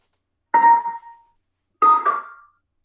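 A Hammond B3 organ chord with percussion on and drawbars off sounds twice, each a quick percussive click-like attack that fades within half a second, leaving brief gaps of silence between.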